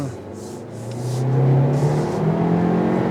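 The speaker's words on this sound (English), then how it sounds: "You're going to hear the engine because it is a 4-cylinder engine." A 2026 Kia K4 hatchback's 1.6-liter turbo four-cylinder engine revving while driving, a steady droning hum that swells in pitch and loudness, heard from inside the cabin with faint background noise.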